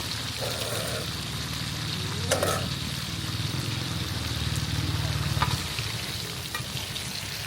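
Marinated food deep-frying crisp in hot oil, giving a steady, close crackling sizzle with a low rumble beneath and a few brief clatters.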